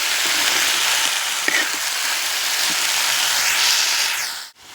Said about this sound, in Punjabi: ਬ੍ਰਿੰਜਲ ਆਪਣੇ ਹਲਵਾ ਦੇ ਨਾਲ ਫਰਾਈ ਹੋ ਰਹੇ ਆ